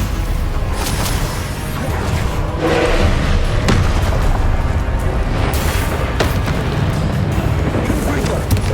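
A Stupefy spell cast in the video game Hogwarts Legacy, with loud booming magical blasts and crashing impacts over continuous game effects, and spoken incantations mixed in.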